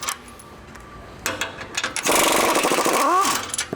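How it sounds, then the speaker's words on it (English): Front skid plate bolts come off a Bronco, heard as short rattling bursts of a power tool followed by a longer loud whirring run and a few squealing pitch sweeps near the end, with scattered metallic clicks. "We're gonna remove these two front bolts here."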